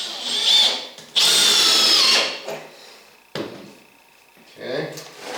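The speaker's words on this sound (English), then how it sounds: "Third screw's gonna just go straight down." A power drill drives a screw into a wooden reloading bench: a short whir, then a longer steady high-pitched whine that bogs down, followed by softer bursts and someone talking.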